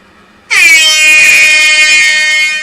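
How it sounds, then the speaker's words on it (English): After a moment of quiet, a loud air horn blasts suddenly and holds one sustained, brassy tone for about two seconds. "So there's an air horn."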